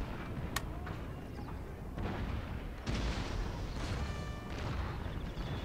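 Cannon artillery fire in the video game Empire: Total War, a series of booms and distant bursts over a busy battle din, with short crackling volleys scattered through.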